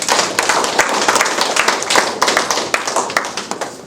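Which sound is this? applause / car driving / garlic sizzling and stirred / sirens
applause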